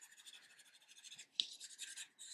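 A colored pencil drawing on paper gives a soft, faint scratchy shading sound, brief strokes with a short pause between them.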